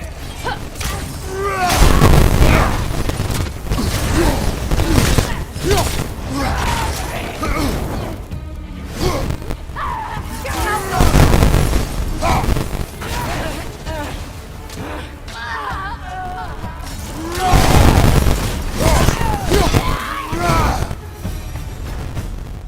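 Cannon fire and explosions in God of War Ragnarok, in Midgard: repeated heavy booms and crashes rising every few seconds amid a busy battle din, mixed with shouting voices.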